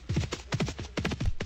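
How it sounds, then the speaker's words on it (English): Horse hooves clip-clop in the Second Life virtual world while a player shoves the animal, with several uneven clusters of fairly close hoof knocks and no talking. "I'm trying to push that horse."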